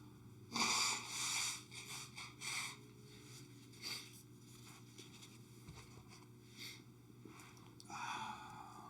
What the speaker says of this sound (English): Blowing your nose if you need to. I do.